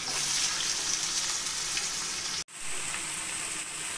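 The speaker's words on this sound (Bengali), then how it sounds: "দিয়ে এবার একটু আমি হালকা 2-3 মিনিট মতো ভাজা ভাজা করে নেব।" Diced papaya frying in hot oil tempered with mustard seeds and dried red chilli, a steady close sizzle that cuts out for a split second midway and then resumes just as loud.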